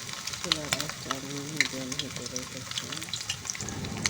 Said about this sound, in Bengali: এরপর এই তেলে আমি পাকোড়াগুলো দিয়ে দিচ্ছি